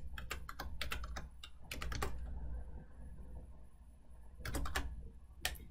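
Keys clatter on a computer keyboard in short bursts of quick typing, separated by pauses, close and fairly quiet over a low background hum.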